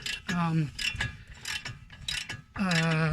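A ratchet wrench removes bolts from the front brakes of a 2016 Seat Alhambra, making quick bursts of clicking and whirring strokes separated by short pauses.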